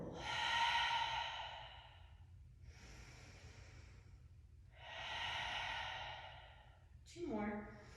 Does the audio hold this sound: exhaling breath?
yes